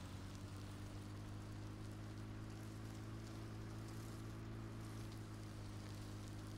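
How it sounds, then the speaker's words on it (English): Rain in Farming Simulator 17 falls as a steady, uniform hiss over a constant low mechanical hum, with no talking. "Now that we got rain, we're gonna go show off the mud."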